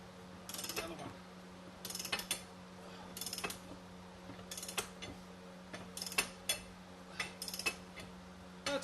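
A ratchet wrench cranks a bolt loose during rear suspension work on a Subaru Outback, producing repeated bursts of quick close clicking with short pauses between strokes over a faint steady hum.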